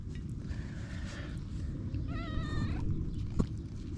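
A cat meows twice nearby beside a 1927 Petter M Apple Top 5 HP stationary engine, a faint call then a longer wavering one, over steady low rumbling background noise with a brief knock near the end.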